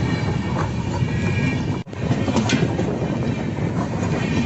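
A passenger train in India rumbles along, with a dense, steady roar of wheels and carriage noise that drops out for an instant midway, then resumes just as loud.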